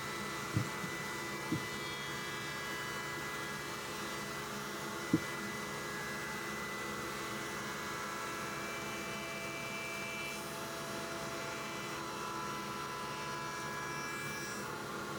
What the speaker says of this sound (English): I went to the router table, a little round over bit, and I'm just easing the edges of the windowsill here